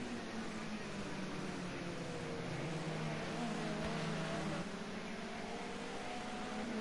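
Modern touring race cars, a Pirelli BMW at the front, run at Oulton Park International: a steady engine drone, held fairly distant and continuous, with no clear pass-by peaks.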